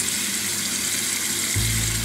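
Cold water from a faucet runs steadily during a nail-polish session, a broadband rushing hiss that swells louder near the end as the flow strengthens.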